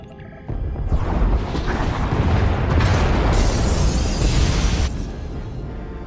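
A large explosion tears through the pod bays of a starship in Star Wars: The Old Republic, a loud sustained roar and rumble with crackling debris that swells and then thins to a lingering rumble.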